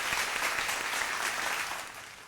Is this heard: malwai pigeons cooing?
no